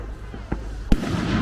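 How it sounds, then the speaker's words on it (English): Fireworks go off outdoors at night as two sharp pops, the second louder and closer, over a low background rumble. "they're setting off fireworks up here"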